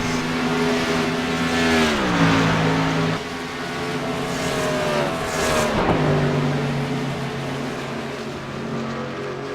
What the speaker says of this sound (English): here comes Mark Murphy closing back in on that 2nd position in that Ford Mustang machine